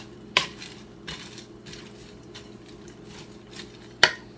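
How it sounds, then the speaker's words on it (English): A spoon stirs dried fruits soaking in liquor for black cake, with a couple of sharp clinks against the bowl and soft swishing in between, quiet and close. "And give it a stir."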